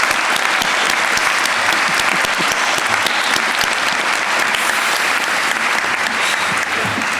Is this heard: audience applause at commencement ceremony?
yes